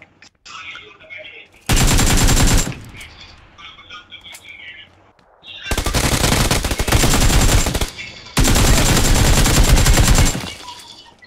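Automatic gunfire bursts out in three long, loud volleys in the PC Lite edition of the battle-royale shooter PUBG, with quieter game ambience and brief gaps between them.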